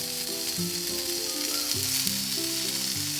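Steady, loud sizzling of pork belly frying in a lightly oiled hot pan over low heat, continuous crackle throughout with faint clinks of utensils underneath.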